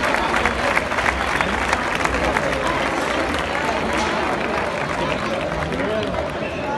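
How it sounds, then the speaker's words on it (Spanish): A festival crowd at a bull-running event claps hard for the Viver team of bull-runners, a thick, continuous rattle of applause with a murmur of voices mixed in, loud and sustained across the stretch. "Un fuerte aplauso para la cuadrilla de voladores de Viver."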